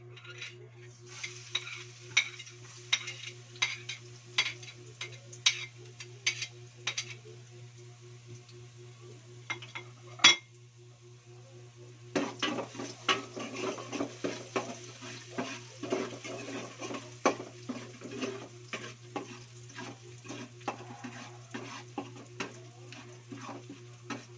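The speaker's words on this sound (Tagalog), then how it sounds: "igigisa po natin ang bawang at sibuyas. Unahin po natin yung bawang." Garlic sautéing in a pan for a Bicol-style chicken curry, a steady sizzle with repeated scraping stir strokes and clinks of the utensil against the pan, close and continuous with no talking.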